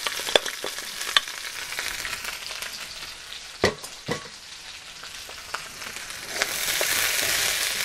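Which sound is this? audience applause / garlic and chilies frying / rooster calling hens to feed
garlic and chilies frying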